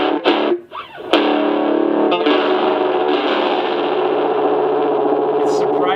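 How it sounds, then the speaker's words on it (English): A guitar played through a homemade cigar box amplifier turned all the way up gives a sustained, dense high-gain overdrive tone, loud and close after a few brief opening notes. "With it all the way up, it's almost like kind of a higher gain overdrive."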